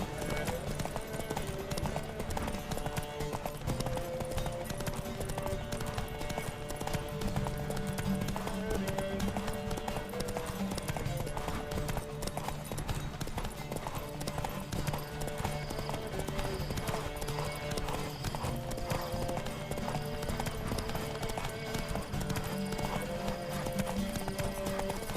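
Rapid rhythmic clip-clop of galloping hooves in The Witcher 3: Wild Hunt runs steadily throughout, with a horse whinnying at moments and music playing underneath.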